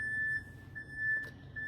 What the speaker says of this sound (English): I don't know what the beeping is, but it's annoying